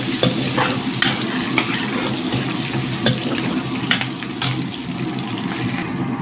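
Onions frying in a pan for a jackfruit curry, stirred with a steady scraping and a continuous loud sizzle close by, with occasional sharper clinks of the utensil.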